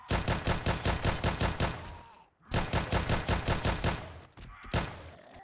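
Rapid bursts of gunfire from a weapon in the video game 7 Days To Die, with loud, evenly spaced shots in two volleys that are split by a brief pause and followed by a few scattered single shots.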